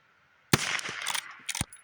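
A Winchester Model 9422 rifle fired at a range, a sharp crack followed by a few quick rapid cracks in under two seconds, fairly quiet and close.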